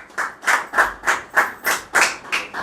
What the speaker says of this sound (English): Please let us give him a round of applause